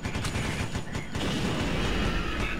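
A flamethrower fires in the game Larva Mortus: a loud, dense, continuous roaring rush with rapid crackling bursts, up close and without pause.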